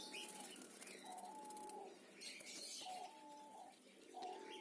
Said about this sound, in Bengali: এদের ডাকের প্রেমে পড়ে আমি চাইনিজ সিলভার ডাব পালন করি